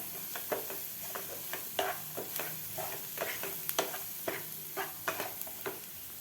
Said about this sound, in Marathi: व्यवस्थित आपल्याला हे परतून घ्यायचं आहे त्यांच्या कांद्याबरोबर